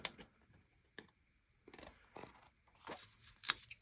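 Scissors cut out shrink plastic for small journal charms, making a series of faint, close, crisp snips spaced irregularly in a quiet room.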